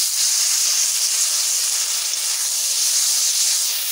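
A little water splashed into a hot kadai of frying spices sends up a loud, steady hiss of steam that holds without a break for several seconds.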